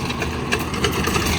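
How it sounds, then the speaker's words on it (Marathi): A tractor driving a rotavator on a farm with a tomato field nearby gives a steady, close, loud engine rumble mixed with a churning mechanical drone, continuous and without voices. "हे आपला ट्रॅक्टर आहे 53 रोटर आपला चालू आहे"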